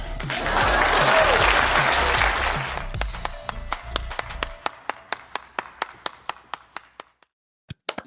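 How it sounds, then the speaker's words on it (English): A burst of applause from a group fades into a handful of scattered, single hand claps that slow and thin out until silence. "Please clap."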